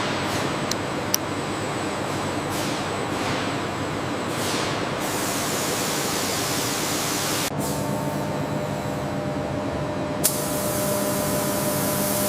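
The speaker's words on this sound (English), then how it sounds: "the barrels are then coated with a specialized polymer spray" Polymer spray coats metal pen barrels on a factory line, a steady hissing spray that runs continuously at an even level with a few faint clicks and tonal machine hums.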